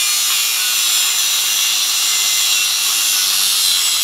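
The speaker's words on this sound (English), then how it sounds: "So these are the little slits that we cut." A power tool cuts slits into a car exhaust pipe, giving a loud, steady high-pitched grinding hiss that runs unbroken and close up throughout.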